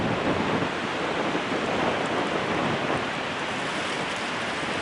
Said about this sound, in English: Oh, wind's blowing.